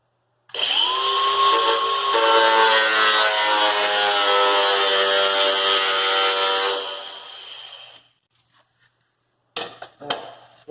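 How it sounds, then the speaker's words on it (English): A power tool cuts into the steel of a Miata fender, a loud, sustained high-pitched whine with a rising tone that holds for several seconds, then stops, leaving a few faint clinks afterward. "I'm going to make a little relief cut here so that way it hinges a little bit more"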